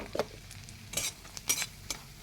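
Egg being scrambled and fried in a pan for a potol posto dish, a soft sizzle under a few distinct scraping stirs of a spatula, close by with no talk.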